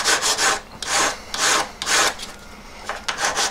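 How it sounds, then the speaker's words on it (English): A coarse buff stick sands a diamond ring in short back-and-forth strokes, about seven close, rasping bursts with brief pauses between them and no voices. "I'm just going to go straight to a coarse buff stick"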